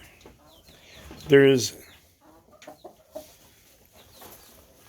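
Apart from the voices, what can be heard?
rooster crowing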